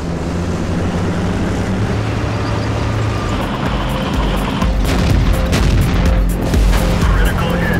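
Tank cannon fire in World of Tanks landing a critical hit: heavy booming shots and crashing impacts burst out over a steady, loud rumble of engines and battle noise, with no voices.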